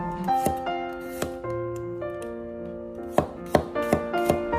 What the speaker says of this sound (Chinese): 将大蒜切成薄片